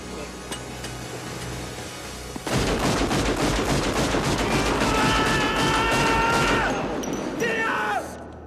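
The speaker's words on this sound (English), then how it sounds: "So he fires all of his rounds into the air." Rapid gunfire from a Point Break movie scene erupts after a quieter stretch, a dense, loud volley of repeated shots lasting several seconds with metallic clatter and ringing mixed in, then cutting off abruptly.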